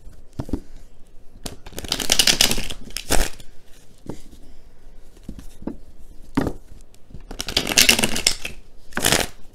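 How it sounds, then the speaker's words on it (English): Tarot cards being shuffled in several brisk bursts, crisp riffling and slapping sounds up close, separated by short quiet pauses. "Just give me a couple seconds here to shuffle the cards."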